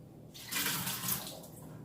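Water splashing as soaked almonds are drained through a strainer in a home kitchen, a brief rushing pour that swells and then fades, close and moderately loud.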